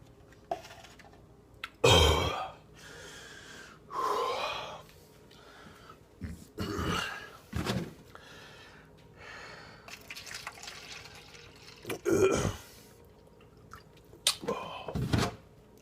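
A person gulps down sea salt water on an all-liquid Master Cleanse: scattered swallows, wet liquid sounds and sharp gasping breaths come in uneven bursts between quiet pauses, close and without speech.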